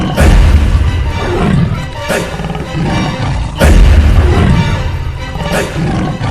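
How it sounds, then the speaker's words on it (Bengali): A tiger roaring in the Sundarbans, two deep, powerful roars in succession, loud and resonant, each swelling then trailing off. "বাবা ওই দেখো, বাঘে ডাকছে।"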